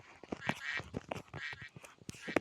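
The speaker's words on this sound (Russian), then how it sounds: "Хватит крякать" Quacking from a duck character in a Roblox tower obby game sounds in rapid, fairly quiet bursts, several quacks crowding together over a short stretch.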